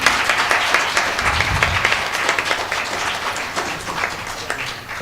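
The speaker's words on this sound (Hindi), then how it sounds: "सारे परफॉर्मेंसेस के लिए जोरदार तालियां।" Audience applause after a program of solo Kathak dance performances in the Birju Maharaj tradition, steady dense clapping from a crowd filling the whole stretch at an even, sustained level.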